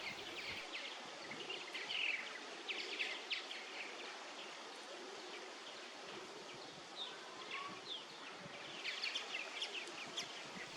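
Birds call outdoors at Ellis Bird Farm in Alberta on a hot day, with scattered high chirps and trills over a steady insect-like buzz and light rustling. The calls are fairly faint and no one speaks.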